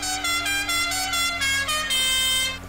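A musical car horn plays the Godfather theme in short and sustained honks in the racing game Live for Speed, loud and close, with brief gaps between notes.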